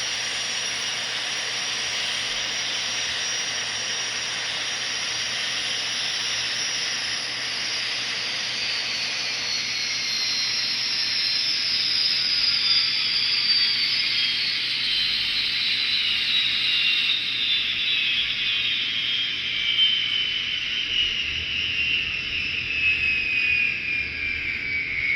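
Two model turbine locomotives run together on a home layout, producing a steady hissing, whooshing whine with a high turbine tone that slowly falls in pitch. The sound is continuous and moderately loud, with no talking.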